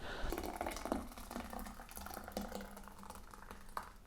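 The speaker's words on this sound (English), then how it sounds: "And then I'm just going to stir in this creamy carrot soup mixture." A spoon stirs creamy carrot tahini soup in a pot, making soft, close, wet sloshing and swirling sounds. It stays quiet and steady for about four seconds.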